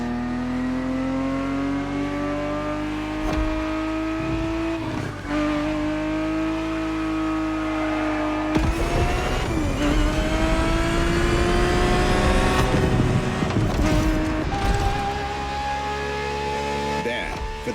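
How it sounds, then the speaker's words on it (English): A Ferrari 365 GTB4, a 1970s sports car, races in The Crew Motorfest video game. Its engine drones loud and unbroken, rising in pitch through each gear, dropping at the shifts, then revving harder with a brief tire scrub. "365 GTB4 is the perfect vehicle for you to experience Ferrari racing as it felt back in the 70s"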